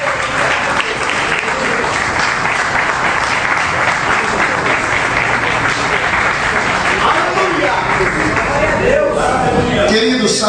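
A church congregation applauds joyfully, a loud, continuous sheet of clapping that carries on throughout, with voices mixed into the sound.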